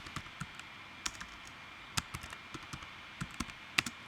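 Computer keyboard arrow keys pressed singly in an irregular series of sharp, close clicks, a dozen or so spaced out over a quiet background with no talk.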